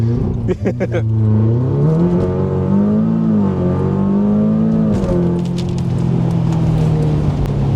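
An Audi TTS launches hard on a wet road, its engine revving up through rising and falling pitches with a loud, close roar that holds for several seconds. People talk underneath.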